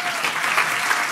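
Church congregation applauding guest speakers Shaunti and Jeff Feldhahn at a Sunday service, a dense, steady wash of many hands clapping close and loud throughout, with no talking.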